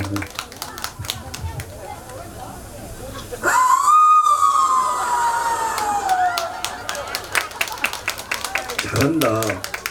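A singer's voice imitates a fox call at a lively outdoor performance: a long, loud wail that rises sharply and then slides slowly downward, with scattered crowd clapping and chatter before and after.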